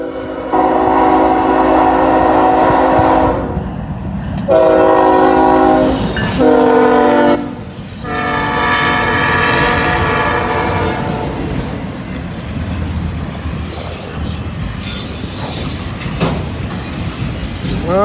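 Norfolk Southern southbound freight train hauling auto racks rolls past close by, its loud horn sounding in long sustained blasts before the wheels take over with squealing and rhythmic clickety-clack that continues to the end.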